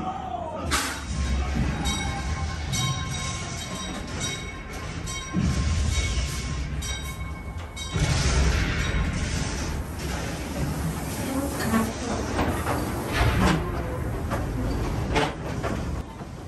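An amusement ride train at Knott's Berry Farm rumbles and rattles along its track, with metallic clanks, squeals and jolts layered over a constant loud mechanical roar.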